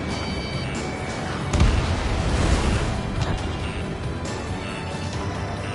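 A missile launched from a fighter jet in a combat flight game, a sharp whoosh and booming blast over a steady roar of engine rumble, moderately loud with no voices.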